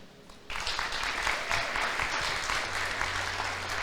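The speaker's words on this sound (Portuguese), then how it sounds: "Aplauda o Senhor" A church congregation applauds during a sermon, the clapping bursting in abruptly after a quiet moment and continuing as a dense, even roar of many hands.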